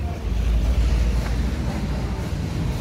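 Water spraying over a TSM Tour bus during a wash in Palembang, heard as a steady, loud rushing hiss with heavy low rumble throughout.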